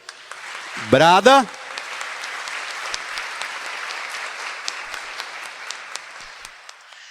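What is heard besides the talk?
applause in church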